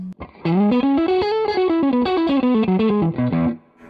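Fender American Performer Stratocaster with the push-pull pickup switch in the up position, a bright distorted lead phrase of quick connected notes bending up and back down, lasting about three seconds after a short lead-in, no talking.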